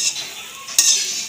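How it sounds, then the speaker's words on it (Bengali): Bori lentil dumplings frying in hot oil in a wok give a steady, close bright sizzle with brief sharp bursts as they are stirred or moved, and no voices. "তেলের মধ্যে বড়িগুলো দিয়ে দেবো। বড়িগুলোকে ভেজে নেব প্রথমে।"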